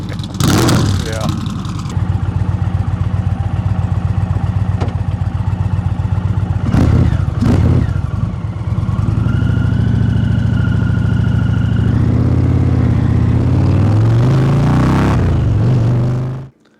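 A 2023 Indian Pursuit motorcycle engine idles and revs loudly up close, with sharp throttle blips early on and then a sustained rising rev, with some background talk.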